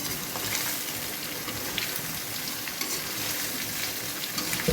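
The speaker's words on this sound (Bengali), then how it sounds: "আমি একবারে ভেজে নিতেছি এটা" Soya chunks fry in a pan with a dense, continuous, crackling sizzle close by, dotted with small pops and stirring scrapes, and no voices.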